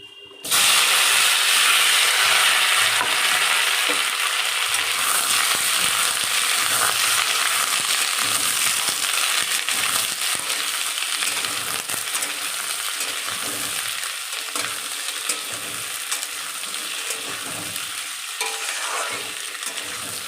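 Fried potatoes and raw green tomatoes frying in a pan, a loud, steady hissing sizzle that starts abruptly and continues throughout with faint stirring clatter, close by and without speech.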